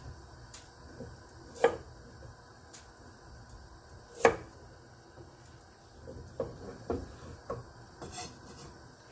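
A knife trims the ends off vegetables for a beef pot roast with potatoes and carrots, making a few distinct chops against a board among quieter scraping and rubbing, close and sparse with no talking.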